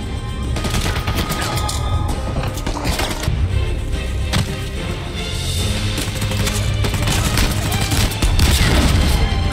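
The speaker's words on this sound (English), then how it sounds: "Who is shooting me?" Sustained gunfire from Uncharted 4 in Madagascar, dense overlapping shots and bursts with heavy booms, loud and continuous for about ten seconds.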